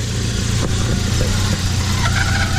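A cheap Volvo car engine runs loudly and steadily up close, with a rough, uneven rattle and a faint whine creeping in toward the end.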